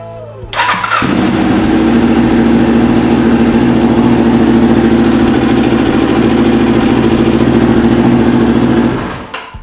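A Kawasaki Ninja 250FI motorcycle engine cranks and catches, then settles into a steady, loud, close idle that runs for several seconds before cutting off.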